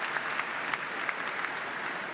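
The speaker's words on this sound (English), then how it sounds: "everyone applauds behind him" Audience at the Commonwealth Games closing ceremony in Birmingham applauds, a broad steady wash of clapping from a large crowd with a few sharper claps standing out, sustained throughout.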